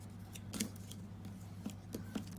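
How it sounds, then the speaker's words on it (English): Scissors snip along the edges of a handmade stamped cupcake card, trimming a banner end, giving a few sharp close cuts spaced across a couple of seconds over a steady low hum. "I'm going to cut the edges in and just banner cut."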